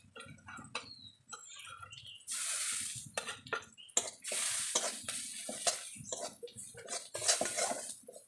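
Spices are stirred into a home-cooked fish curry with pond fish and drumstick greens, giving irregular scraping and clinking of a spoon against a pan over a soft sizzle, with no talk.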